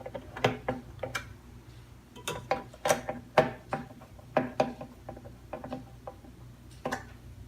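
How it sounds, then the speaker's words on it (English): Repeated ratcheting clicks from a screwdriver tightening the mounting screws of a Noctua NH-U14S CPU cooler on an MSI X99A Gaming Pro Carbon LGA2011-V3 motherboard, close and irregular in short bursts. "I'm just gonna tighten to the point where it actually stops."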